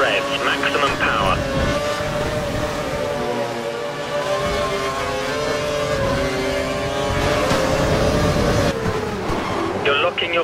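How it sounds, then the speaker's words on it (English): F1 2012 race car engine screaming at full revs in the video game, a loud sustained high whine with shifting pitch over constant engine noise, with a voice talking over it. "He's running full revs, maximum power."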